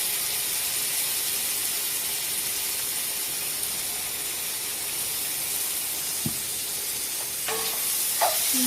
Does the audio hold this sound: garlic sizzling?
yes